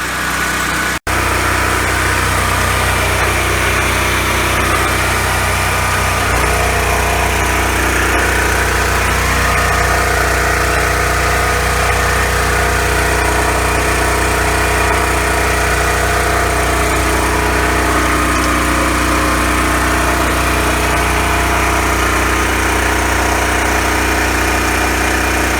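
A repaired portable generator engine drones continuously after its choke is shut off. It is loud and close, its steady running tone settling into an even hum, with no talk.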